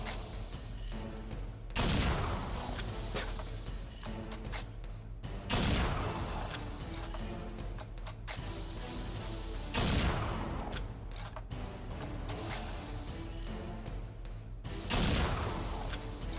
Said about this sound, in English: So I'm shooting the people too now?